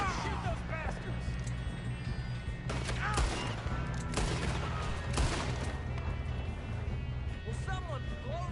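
Gunfire in the video game Red Dead Redemption 2, a busy battle with scattered shots and bursts over a steady background, mixed with voices shouting during the fight.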